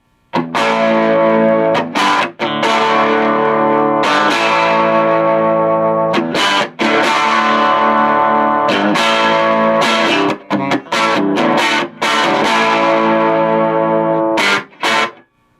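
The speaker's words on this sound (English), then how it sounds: "you just got to crank it up on 8 to 10 is when she starts breaking up" Overdriven electric guitar through a 1960s Beltone AP-14 tube amp cranked to 8-10, bridge pickup, loud sustained chords ringing out with brief pauses between strums.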